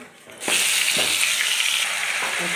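Whole cumin seeds, bay leaf and dried red chillies hit hot oil in a kadai, a brief quiet lead-in giving way to a sudden loud, sustained crackling sizzle with a few clinks.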